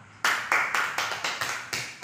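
A class of students claps in unison during a teaching demonstration, giving eight sharp, evenly spaced claps close by with no talking.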